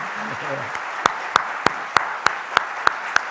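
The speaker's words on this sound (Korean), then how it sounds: "우리 다시 한번 박수 한번 날까요?" A church congregation at a prayer service claps in unison, with sharp, evenly spaced claps about three per second standing out over a low room murmur. A voice speaks briefly just before the clapping starts.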